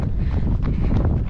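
Rough, buffeting wind noise rumbles over the microphone during an outdoor marathon training run in light wind, loud and constant for the whole moment.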